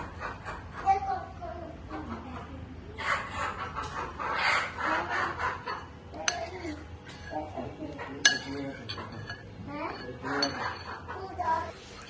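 Dishes and cutlery clink and clatter intermittently as rice with milk and jaggery is served at home, with people talking close by throughout.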